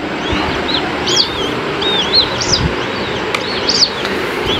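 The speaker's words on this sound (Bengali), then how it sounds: "মনে হয় ডাক শোনা যাচ্ছে পাখিগুলোর।" Small bird chicks calling, a string of thin, high chirps repeated at irregular intervals over a steady, hissy background, fairly close.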